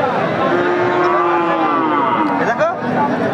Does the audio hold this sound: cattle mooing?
yes